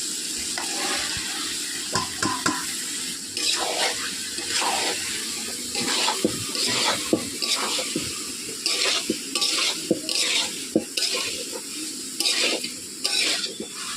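Boiled chickpeas and potatoes frying for chana masala, a dense wet sizzle with a ladle repeatedly scraping and stirring through the pan in a regular rhythm, close and fairly loud, with no talking.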